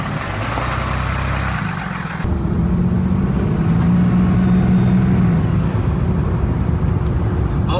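A truck engine with an upgraded turbo pulls during a test drive, a loud steady drone that jumps in intensity after a brief lull, with a rising then falling turbo whistle over the rumble.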